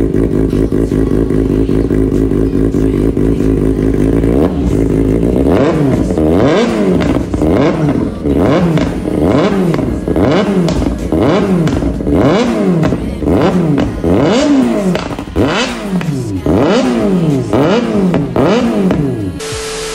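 A Kawasaki sport bike engine revs hard through a loud Hedon aftermarket exhaust, starting with a steady idle and then repeated sharp throttle blips rising and falling in quick succession.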